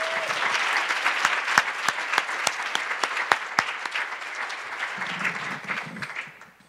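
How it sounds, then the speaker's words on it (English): Banquet audience at a scholarships and awards event gives a round of applause, dense clapping with distinct sharp individual claps standing out, fading at the end as a voice begins. "Let's give these students another round of applause."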